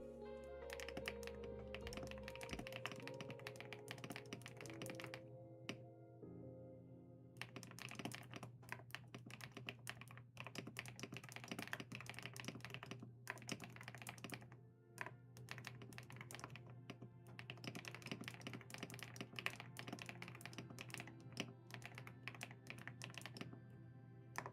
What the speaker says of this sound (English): Your keyboard sounds so satisfying